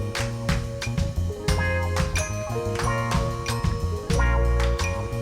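A short music loop plays back in Pro Tools: punchy drum hits and bass under bright, tinkling melodic notes, looping at steady full volume.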